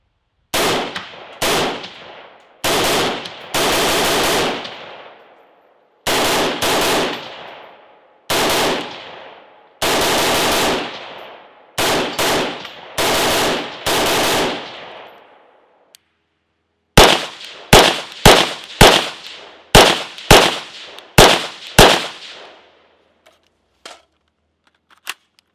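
A Spike's Tactical 14.5-inch upper rifle firing Frontier ammunition, loud close gunshots: about a dozen separate shots with pauses, then a faster run of shots with a ringing tail, and no voices.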